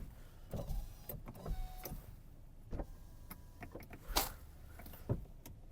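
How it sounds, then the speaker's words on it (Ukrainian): Electric power windows on a Volkswagen Golf Plus motor up and down in a few short whirring runs, separated by clicks and quiet pauses inside the car. "Склопідйомники працюють."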